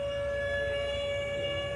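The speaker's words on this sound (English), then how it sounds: "They play this every once in a while, the sirens." A civil defense siren sounds outdoors near a protest encampment at UCLA, a steady, loud sustained tone holding one pitch throughout the short stretch, with no voices.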